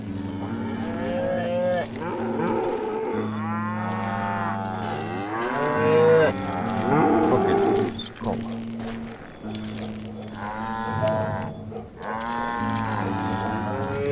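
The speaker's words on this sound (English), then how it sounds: "A lot of cows." Cattle moo repeatedly in the Call of Juarez: Gunslinger video game, long drawn-out calls overlapping one another, loud and close over a steady game background.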